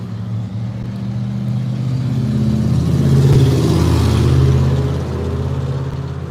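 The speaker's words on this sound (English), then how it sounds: "I think that blue truck was driving by at the door." A blue truck driving by on a street, its engine hum and tire roar swelling as it passes close, then easing off again, loud and continuous with no talking.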